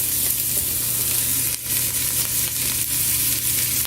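Garlic and onion sizzle steadily in olive oil in a pot, a loud, close, continuous frying hiss with a brief dip partway through, no voices.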